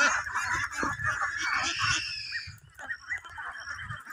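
A flock of around a thousand Khaki Campbell ducks on a duck farm keeps up a loud, dense chorus of overlapping quacks close by, thinning slightly near the end.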